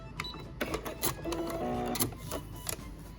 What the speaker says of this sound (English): We're going to start by just a little stitch, back stitch, and back stitch again